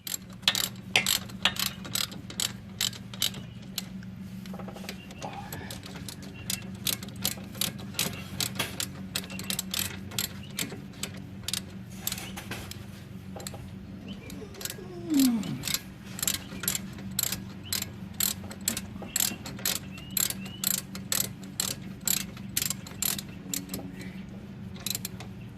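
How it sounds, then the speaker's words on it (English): A ratchet tightening the brake caliper bolts on a 2003 Mercedes C230, steady close clicking in repeated short bursts over a low hum, with a brief squeak partway through. "we take our caliper bolts with a little bit of Loctite on them, and we'll tighten these down"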